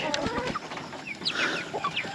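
Several chickens cluck close by in short, overlapping calls against a soft background murmur.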